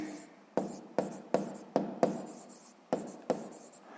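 Pen on paper while writing out a sixth-grade math solution: a series of about eight sharp close taps and short scratching strokes at a steady pace, quiet and with no talk.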